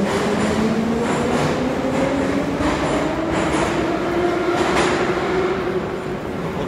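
A metro train rumbles steadily through Turgenevskaya underground station in Moscow, with a rising whine of the motors and faint wheel noise, loud and close throughout.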